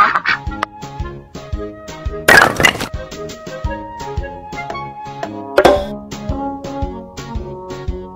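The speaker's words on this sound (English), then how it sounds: "Duck." Cartoon duck quacking in a children's animal puzzle game, a couple of short bright calls rising above a steady, busy backing music track.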